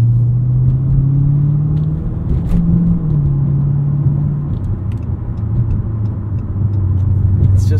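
A 2016 Dodge Challenger SRT 392 muscle car's V8 rumbles loudly from inside the cabin while driving, a deep steady drone that shifts pitch as it eases off and picks up again, continuous and close.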